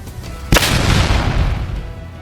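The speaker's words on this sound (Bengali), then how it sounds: "এটা কি জোরে ব্লাস্ট হলো আপনারা কিন্তু দেখছেন" A homemade bomb packed with matchstick powder goes off in a single loud, close blast, and a long rumbling roar fades over about two seconds.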